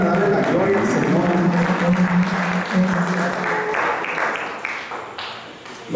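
Congregation applause in a Spanish-language church service with choir and tambourine players, a clapping wash heard under a voice talking, strong at first and thinning out toward the end.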